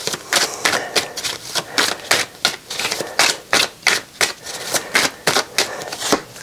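Tarot cards are shuffled and drawn in a brisk, rhythmic series of close, crisp riffles and snaps, repeating steadily with no talking.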